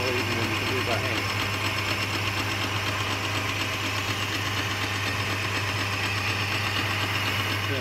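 A Boxford metal lathe turns steadily under automatic feed, taking a fine cut; a continuous, even mechanical whir and hum with a faint rhythmic ticking runs unbroken and fairly loud throughout.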